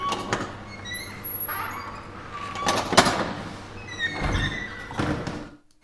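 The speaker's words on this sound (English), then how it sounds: "And we can hear that it's a squeaky door." A squeaky door recorded at Banff Academy plays back as a series of scattered creaks and squeals with a few knocks and thuds, some of them fairly loud. The sounds come at irregular moments, and nobody speaks.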